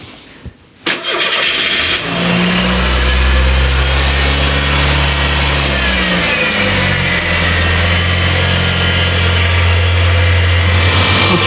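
A Ford Mustang with a rough idle cranks briefly, catches and starts, then settles into a steady, loud close-up idle with slight fluctuations in engine speed, no talking.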